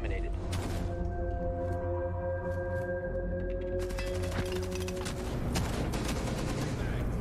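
Gunfire in the video game Rainbow Six Siege, dense rapid shots and bursts running throughout with a sustained electronic tone in the background, loud and continuous, with a voice talking over it.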